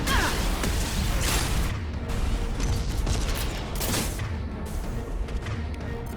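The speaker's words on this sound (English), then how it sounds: "Firing a high-impact shot!" Gunfire and explosive impacts in the video game Mass Effect 2, a dense continuous barrage of shots and crashes with heavy rumble, loud throughout.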